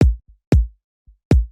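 Electronic kick drum in a remix production, three punchy, bass-heavy hits with quick decay spaced about 0.8 seconds apart, with small softer thumps between them.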